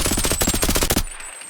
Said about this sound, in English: for being a suppressed gun and having that super high fire rate